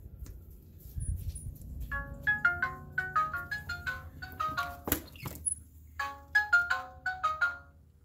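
An indoor chime unit paired with a Nooie video doorbell plays a bright, repeating electronic melody of clustered tones, fairly close, with a short clunk partway through and no talking.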